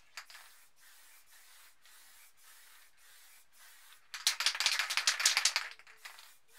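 Spray paint can of white paint being shaken, a series of faint rhythmic rattling strokes followed by a louder, faster burst of vigorous shaking near the end, close up with no talking.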